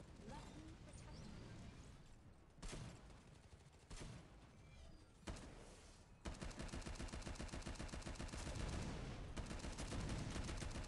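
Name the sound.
gunfire and rocket explosions in the video game Shadowgun War Games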